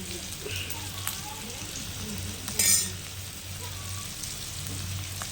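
Dried stingray and anchovy fish fry in oil with a continuous, moderately loud crackling sizzle, one brief sharper burst midway, and faint stirring underneath.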